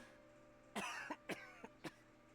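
A game character in Genshin Impact coughs in a short, harsh fit of several bursts, close and fairly loud over a quiet, steady background hum.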